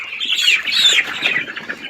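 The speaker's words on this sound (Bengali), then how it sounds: "মুরগি মাসাল্লাহ মোটামুটি ভালো আছে।" Thirteen-day-old broiler chickens on a farm chirp and peep in a dense, continuous flock chorus, high-pitched and close, with no talking over it.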